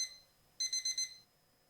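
A video game alarm clock lying on the floor rings in a short bright burst of about four rapid pulses after a near-silent moment, then stops and leaves faint quiet.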